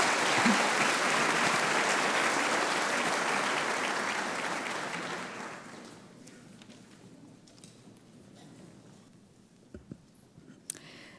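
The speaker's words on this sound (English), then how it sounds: "give them a big round of applause" An audience at a scholarship reception applauds with loud, dense clapping for about five seconds, which then fades to scattered claps and quiet room noise.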